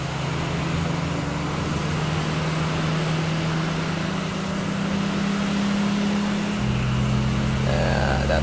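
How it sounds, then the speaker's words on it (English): In the DCS flight simulator, a Su-27 jet fighter runs its auxiliary power unit and starts an engine, a loud steady turbine drone with a low hum that shifts and deepens partway through as the engine spools. "that's the engine startup and the sound of the APU kicking in"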